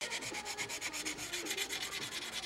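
A hand sanding tool works over a model airplane part for a Windy 707 build, giving a close, continuous scratchy rubbing in quick regular back-and-forth strokes, with no voices.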